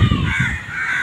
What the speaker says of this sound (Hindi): उत्ते परिंदे ही कोई चहचहा रहे हैं